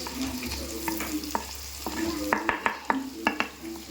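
Onions fry in a pan for chicken gravy, a soft continuous sizzle with a run of spoon scrapes and taps against the pan, growing busier toward the end.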